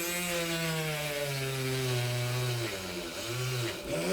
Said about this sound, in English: And just so happens I have my little drill.